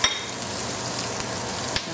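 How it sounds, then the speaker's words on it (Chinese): Ginger and spices frying in olive oil give a steady, close sizzle with a couple of brief sharp pops and clinks, filling the whole stretch with no voices. "现在我们来把油，橄榄油，放这个姜末和香料一起炒"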